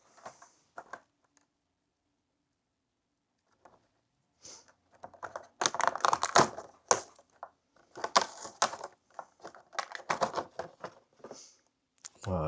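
Fingers typing a code on a computer keyboard, a few isolated key taps followed by a dense, close burst of rapid keystrokes, with a faint voice briefly in the background.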